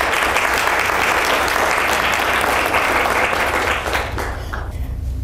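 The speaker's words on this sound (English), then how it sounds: "Let's give them a round of applause" Loud, sustained applause from a crowd filling council chambers at a city swearing-in ceremony, dense and steady, then thinning slightly near the end.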